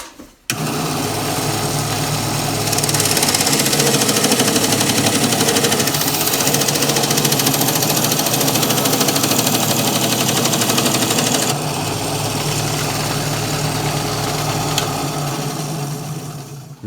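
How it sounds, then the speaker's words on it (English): A diamond-blade Gryphon band saw cuts through a thick 3/8-inch carbon fiber plate, giving a steady, loud, continuous whine and grind that holds for about fifteen seconds without talk. "We cut that 3/8 carbon fiber like a hot knife through butter."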